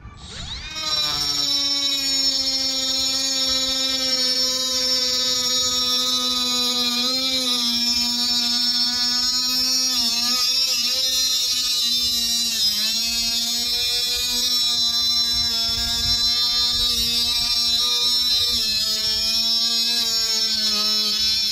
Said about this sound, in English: Now the Harbor Freight 60 grit metal blade.